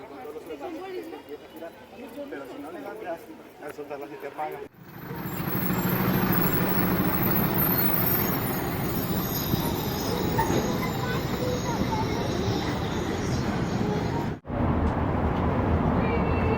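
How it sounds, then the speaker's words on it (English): A bus pulls into a tunnel with a loud, steady roaring rumble that swells suddenly and fills the space for several seconds before cutting off. People chatter nearby throughout. "So waiting for the bus right in the tunnels"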